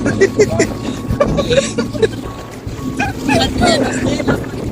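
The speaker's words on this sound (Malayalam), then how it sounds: "ടോപ്പിലേക്ക് ബോട്ടിൽ പോവുകയാണ്" A boat carries passengers across Lake Taupo toward the Māori rock carvings, its steady motor and wind rumble running beneath people talking nearby.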